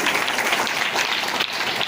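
Applause from a community education event audience for a girl who took first position, a dense, even burst of many hands clapping together, loud and sustained, with no speech.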